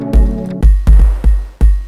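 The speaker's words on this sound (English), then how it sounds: "It's an emulation of the 808 drum machine" A lo-fi 808 drum machine emulation plays a kick pattern: five booming, decaying kicks in an uneven rhythm, sitting over a faint sustained tonal layer, close and loud with no voices.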